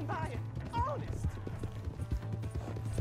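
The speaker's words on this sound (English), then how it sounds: "My horse is gonna run out of stamina soon, or the horse I stole anyway." A stolen horse gallops in the video game Red Dead Redemption 2, with quick rhythmic hoofbeats throughout three seconds, occasional whinny-like tones and a steady low engine-like hum underneath.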